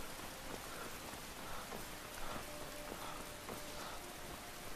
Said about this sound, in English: That's how I feel when I hear a nice relaxing rainstorm.